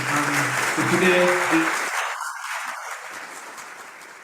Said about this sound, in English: Let us clap for all the participants throughout these 4 days.